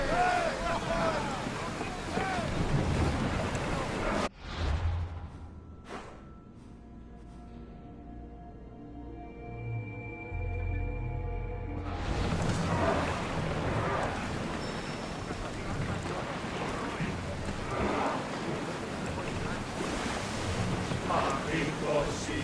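In Assassin's Creed Odyssey a ship sails across open sea, with rushing waves and wind washing around the hull, a brief quieter lull midway, and voices of the crew talking over the surf.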